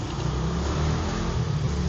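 A Mitsubishi Lancer project car engine runs at a steady rumbling idle, close and continuous with a low throbbing tone, brief and without voices.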